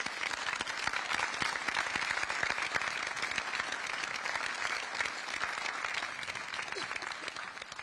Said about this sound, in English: Another round of applause for our veterans.